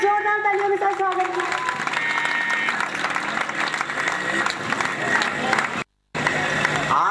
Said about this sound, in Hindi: बच्चों जोरदार तालियों के साथ स्वागत।